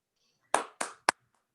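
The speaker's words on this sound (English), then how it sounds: "I invite all the judges and all the participants to do a virtual applause for the winner." Three sharp hand claps of applause for a competition winner, close and quick in succession, with silence before and after.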